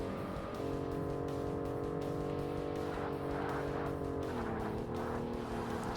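A race car in Forza Motorsport roars steadily with a droning engine while its tires squeal and slide through a corner, the skid noise rising and wavering over the loud, constant motor.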